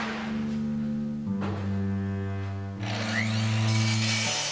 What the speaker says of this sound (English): First I chopped a bunch of short pieces on my miter saw.